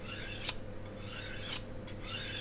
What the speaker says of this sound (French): Passez alternativement toute la longueur de la lame du couteau sur toute la longueur de la mèche du fusil.